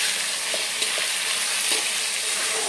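A dish frying in a pan while Everest garam masala is stirred in. A steady, loud sizzle runs throughout, with soft scraping stirs beneath it and no voices.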